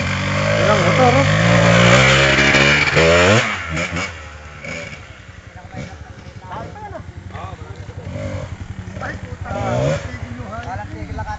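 Several motorcycles rev loudly at close range, engines rising and falling in overlapping bursts before settling into a mixed idle, with people talking throughout.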